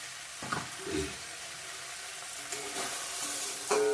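Ground chilli, cumin and coriander powders frying in oil for a fish curry with taro stolons, a low, quiet sizzle broken by a few scraping stirs and clinks, no talking.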